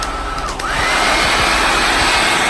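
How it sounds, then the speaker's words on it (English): A handheld blow dryer runs steadily at close range, drying the adhesive under a lace frontal wig during an installation; a continuous loud airy whoosh with a brief dip as it is repositioned. "now I'm just gonna use a blow dryer until it's clear and sticky"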